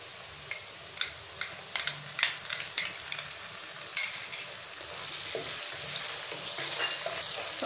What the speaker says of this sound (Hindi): अब हम इसके अंदर इंग्रेडिएंट्स डालने लगे हैं जो वो है अदरक लहसुन का पेस्ट।